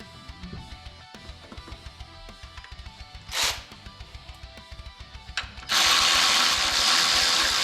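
A ratchet snugs bolts on a Camaro engine with rapid, steady close-up clicking, followed at the end by a sudden loud burst of broad noise.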